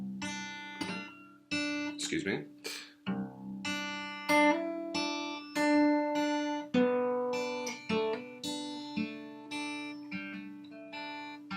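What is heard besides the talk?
guitar riff played slowly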